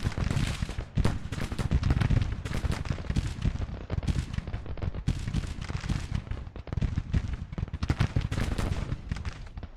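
Artillery fire during an 1863 Eastern spring offensive in the strategy game Grand Tactician rolls on as a dense, continuous barrage of booming cannon shots and crackling blasts, with no pause throughout.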